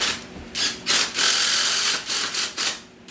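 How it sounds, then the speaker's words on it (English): A screw is driven and tightened into the frame of a PGT impact French door with side panels, giving a steady whirring, ratcheting mechanical sound that pulses in several bursts, close and loud, with no talk. "get that screw up in there, tighten it down"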